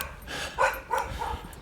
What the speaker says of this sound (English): barking dogs all over the place